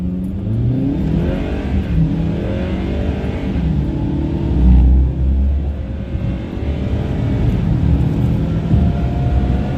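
A stock 2022 Ford Maverick accelerates hard from a launch, its engine building boost with a steady loud rumble that rises and holds, alongside a brief deeper surge midway, with no one talking.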